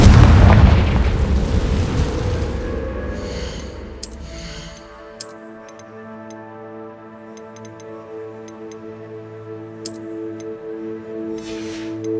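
A Confringo blasting spell explodes in the Hogwarts Legacy video game, a loud booming burst at the start that decays into a low rumble, followed by sustained game music tones and occasional bright chimes.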